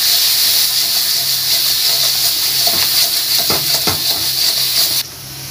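Pointed gourd sautés with onion and turmeric in hot oil, producing a loud, close, continuous hiss with a few clattering stirs, then the noise drops away abruptly at the end.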